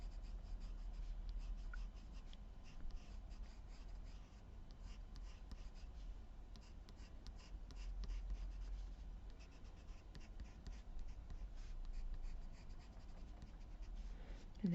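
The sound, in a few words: pencil shading on paper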